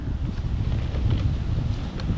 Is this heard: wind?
yes